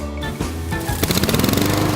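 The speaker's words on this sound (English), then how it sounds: "Using your lawnmower to mulch the leaves in your yard is easier and kinder to your grass." A lawnmower runs over autumn leaves in a yard, mulching them. The engine starts rough and uneven, then settles into a loud, rapid, steady chatter that stays close.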